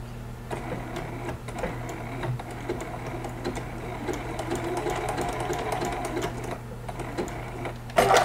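A sewing machine runs steadily while stitching a teddy bear appliqué on a baby quilt, taking a few stitches and a backstitch, with a continuous whirring hum and rapid needle clatter, close and alone.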